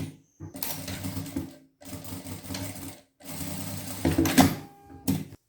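A sewing machine stitching a new seam on a trapeze dress, running in several fast, steady bursts of close mechanical whirring separated by brief pauses, with no voices.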